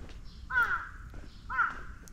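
Crows near street garbage in Japan give two distinct harsh caws about a second apart, moderately near over a faint background hum.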